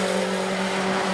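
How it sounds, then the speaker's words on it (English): A Ford Escort race car passes during Bomber class qualifying at New Smyrna, a steady loud engine drone with a strong, unbroken tone over the whole brief moment. "Aaron Foy, another one of these Ford Escorts coming down and completing lap"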